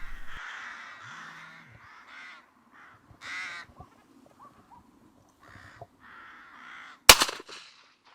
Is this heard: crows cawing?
yes